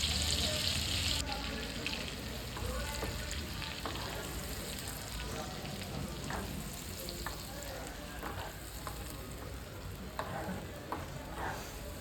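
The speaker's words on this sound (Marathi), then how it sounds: "चांगलं तेल सुटस तोपर्यंत आपल्याला हे परतायचं आहे" Spice paste with cumin and whole garam masala sautés in oil for paneer butter masala, a continuous close sizzle with scattered scraping stirs and occasional soft clicks throughout.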